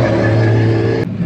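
A drift car's engine revs hard and loud at a Formula Drift event at Irwindale Speedway, holding a strong steady drone before cutting off abruptly near the end.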